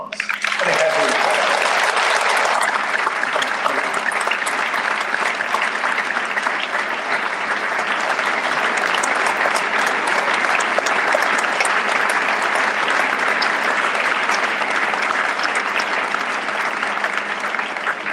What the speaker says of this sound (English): Please give again a round of applause.